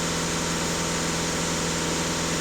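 A VW Golf 7 2.0 TDI diesel engine roars loudly and steadily with the accelerator floored, holding a dense, sustained drone for the whole stretch.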